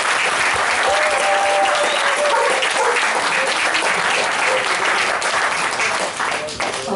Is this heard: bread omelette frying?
no